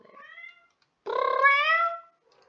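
Lulu, a pet cat, gives a short meow and then a longer, rising, drawn-out meow close to the listener in a quiet room.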